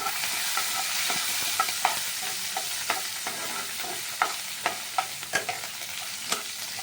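Ginger and tomato stirred in a pan with a steel ladle, a continuous bright sizzle punctuated by sharp metallic scrapes and taps at an irregular rhythm, close and clear with no talking.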